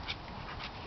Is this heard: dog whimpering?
yes